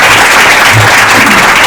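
An audience at a community housing talk applauds to welcome speakers: loud, dense, steady clapping from a crowd filling the whole moment, with no voices.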